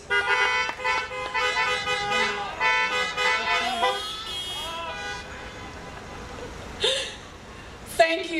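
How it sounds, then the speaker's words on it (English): Car horns toot at a drive-in high school graduation in Alpharetta, a string of short and sustained honks overlapping from several vehicles, some near and loud, others farther off. "can you honk your horn a few times?"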